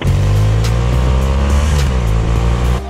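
A 2017 BMW R1200RT sport-touring motorcycle in dynamic mode accelerates hard, its engine note rising steadily and loud up close, with brief gear-change dips along the way.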